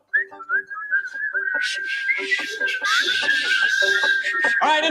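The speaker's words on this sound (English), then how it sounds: "Everybody whistle." Several people whistle a sustained, wavering tune together for a few seconds, loud and near, with snickers and laughter breaking in over it.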